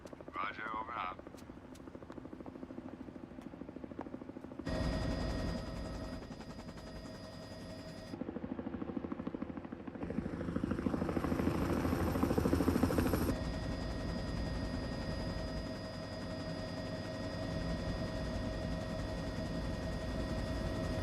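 Helicopter rotor and engine noise from a Superman TV show scene, a steady loud drone that shifts in intensity across several cuts, with voices talking over it throughout.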